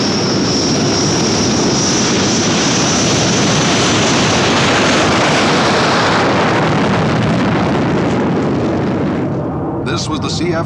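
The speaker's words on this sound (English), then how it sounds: "This was the CF-100, or Canuck, the first jet fighter of entirely Canadian construction and design." A CF-100 Canuck, the first jet fighter of entirely Canadian design and construction, roars past in flight as a loud, steady jet rumble that holds for about ten seconds before easing slightly near the end.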